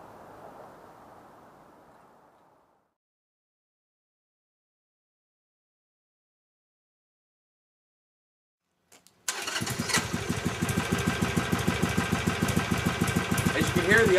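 A Harley-Davidson Sportster 1200 with modified exhaust and intake cranks and fires up after a stretch of silence, settling into a loud, rhythmic, lumpy idle close by. Brief talk comes first.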